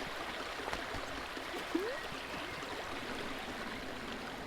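Stream water flows steadily in the video game A Short Hike, a soft continuous rushing and trickling with no voices.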